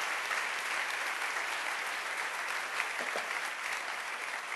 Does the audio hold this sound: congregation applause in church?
yes